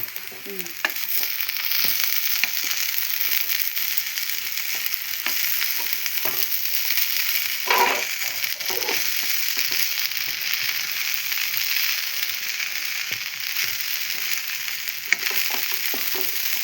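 Garlic chilli egg fried rice with coriander stir-fried in a pan, sizzling steadily throughout with scattered ladle scrapes and clinks, close and continuous.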